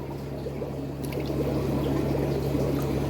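Scoop of water poured into a fish tank, a steady close splashing pour with a low hum beneath it throughout.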